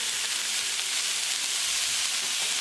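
French beans and paneer cooking under a lid on medium heat, a dense, even hiss of sizzling that holds steady without breaks for a couple of seconds, close and moderately loud.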